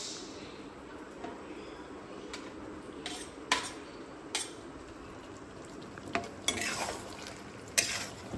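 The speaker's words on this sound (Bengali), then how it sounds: "আমি ফুলকপিগুলো দিয়ে দিচ্ছি।" Cauliflower florets tossed into a pan of well-fried softened potatoes and stirred, giving scattered clinks of a spatula against the pan over a low steady sizzle, with a few sharper knocks near the end.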